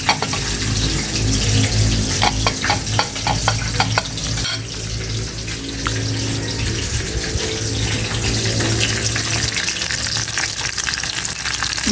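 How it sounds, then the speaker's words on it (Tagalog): Pompano fish frying in a home kitchen pan, a steady close sizzle and crackle running the whole time, with brief stirring clinks and some water-like hiss early on, no talking. "Anong luto dyan sa pritong Pampano?"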